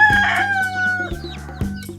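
Flock of chickens clucking close by with a rooster crowing over them, on a small farm keeping about seventy local birds; calls overlap in a busy, steady chorus.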